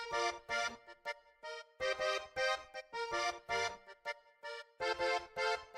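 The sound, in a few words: layered Koriana melodies panned left and background in FL Studio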